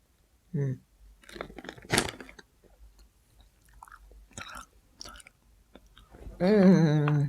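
Chewing beef jerky in a quiet room, with a few soft bursts of crunchy chewing and mouth sounds between pauses, then a louder, voiced ending that sounds like speech.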